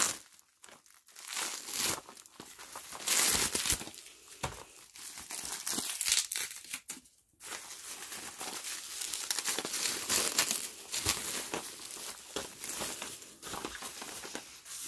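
Keyring packaging crinkles and crumples continuously up close as tape is picked and peeled away, with sharp crackling bursts and rustling that keep going nearly without a break.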